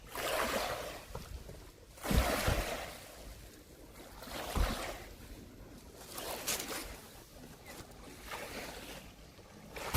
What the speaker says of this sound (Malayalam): ഇവിടെ ഇങ്ങനെ തിര അടിക്കുന്നത് കാരണം ഇതിനെ ഒരു ബീച്ച് എന്നാണ് പറയുന്നത്